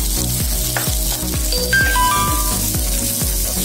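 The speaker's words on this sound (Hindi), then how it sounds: "हमारा तेल गर्म हो गया है, उसमें आप बारीक कटी हुई प्याज को उसमें डाल दें" Finely chopped onions sizzle steadily in hot oil, a dense close crackle broken by regular scraping stirs and faint metallic clinks, with no talking.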